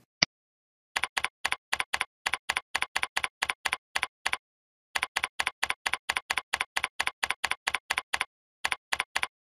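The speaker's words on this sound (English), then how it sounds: "And I type my message." Keys clatter on a computer keyboard in quick, crisp bursts of clicks, with short pauses between runs, close and clear against a silent background.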